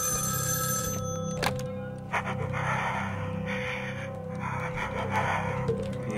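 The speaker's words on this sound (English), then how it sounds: "Oh, phone's ringing." A telephone rings in the horror video game Evil Inside: Prologue, a bright electronic ring at the start, then a sharp hit and steady rustling, heavy breathing and movement noises through the rest.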